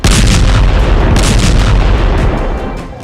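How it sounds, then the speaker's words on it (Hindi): A heavy bombing explosion booms near Al-Shifa hospital in Gaza, one massive close blast with a long rumbling roar that slowly fades. "आईडीएफ का बारूद अल शिफा हॉस्पिटल के गेट के पास गिरा।"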